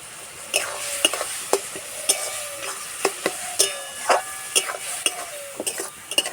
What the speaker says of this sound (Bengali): এইভাবে কিছুক্ষণ একটু নেড়ে নেব